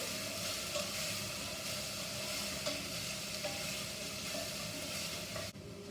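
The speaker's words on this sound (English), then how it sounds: "So not too much cumin, about a teaspoon. Let that fry up a little bit." A teaspoon of cumin seeds frying in oil in a pan gives a steady, loud, close sizzle that keeps up evenly throughout with no voices.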